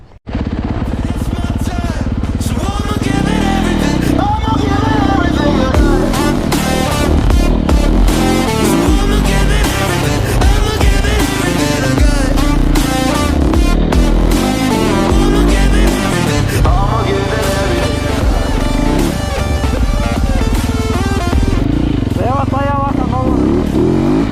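A Yamaha motorcycle engine labors loud and close while riding through deep mud in a forest, revving hard and constantly, with excited voices talking over it throughout.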